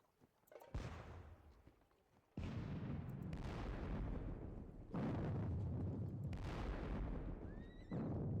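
Artillery fire in a Napoleonic war strategy game, the Katzbach battle: four heavy booming cannon blasts a second or two apart, each with a long rumbling tail, loud and close with no talking.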